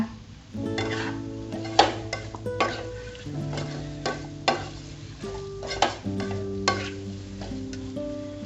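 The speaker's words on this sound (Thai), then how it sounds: "ผัดสักพักหนึ่งนะคะ ให้น้ำสับปะรดมันออกนะคะ" Pineapple stir-fried in a pan for sweet and sour shrimp, a utensil scraping and clinking against the pan in a steady rhythm of strokes over a soft sizzle, close and clear.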